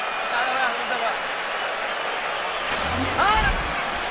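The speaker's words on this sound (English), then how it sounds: "those cheers you hear in the background are fans cheering the blood on Mayweather." Boxing fans cheer in the arena during the Mayweather vs. Cotto fight, a steady crowd roar that swells briefly near the end, with a commentator talking over it.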